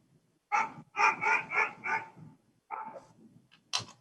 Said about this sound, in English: That's the dog in my driveway barking at me while I was taking out the trash.